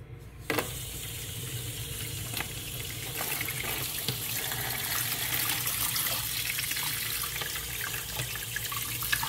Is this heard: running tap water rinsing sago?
yes